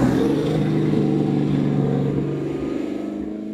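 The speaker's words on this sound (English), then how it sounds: "the mufflers are bellowing on your left and right sides" Eleanor muscle car on a test drive, its mufflers bellowing in a loud, steady low rumble with a rough pulsing throb that eases slightly toward the end, no talk over it.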